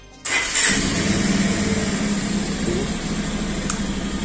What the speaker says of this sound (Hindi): पहले बाइक को स्टार्ट करते हैं।